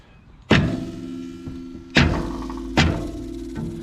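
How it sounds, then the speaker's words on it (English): Hammer blows drive a coil spring onto the upper shock mount spring perch of a 1980-1996 Ford Bronco, three loud ringing metallic bangs with resonant decay plus a lighter tap between, no talk. "give it a quick bang job with the hammer."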